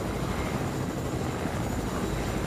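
A Fortnite helicopter roars continuously at close range, its dense rotor thrum and engine noise holding steady throughout with no speech.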